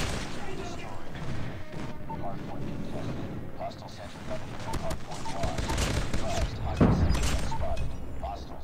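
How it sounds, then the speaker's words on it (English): Sentry gun fire in the shooter COD Mobile, dense continuous bursts of gunfire under ongoing game noise and a person talking, building to a louder impact near the end. "Ah, sentry gun got me."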